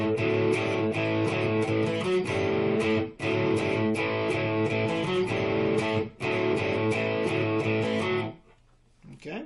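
Distorted electric guitar plays a bridge riff, a D-string line against a ringing open A, repeating loud and steady in chopped phrases before stopping near the end.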